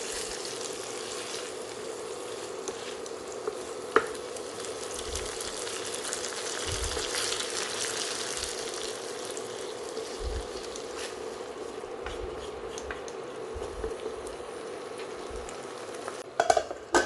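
Eggs fry in pepper masala in a pan over a low flame, giving a steady, faint sizzle. A spoon stirs now and then with soft scrapes and a few sharper clinks near the end.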